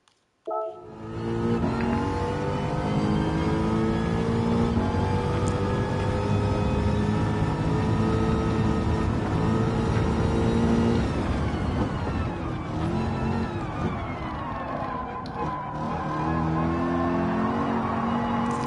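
A race car engine in Gran Turismo 7 drones loudly and steadily, with held revs and gear-shift pitch changes and a dip and recovery near the end, close and continuous with no talk.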